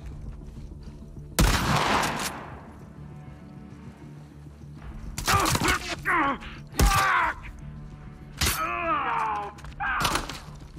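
Gunfire in The Last of Us Part II comes in several sharp, loud bursts spread across the stretch, separated by quieter gaps, with grunts and strained vocal sounds mixed in.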